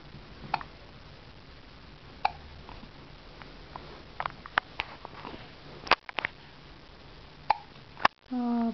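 A small child has hiccups after gulping food down fast, giving a series of brief, sharp hiccups scattered irregularly over a quiet indoor background, with soft talk nearby.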